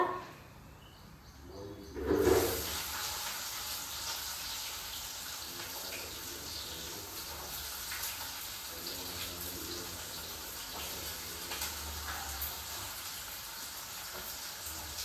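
Onions drop into hot oil in a pan and fry with a sudden burst of sizzle, then a steady hiss that holds for many seconds, close up and moderately loud, with faint bird calls in the background.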